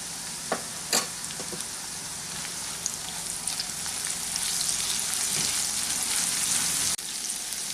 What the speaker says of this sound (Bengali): একটু হালকা বাদামি রং করে এই পেঁয়াজটা আমি ভেজে নিচ্ছি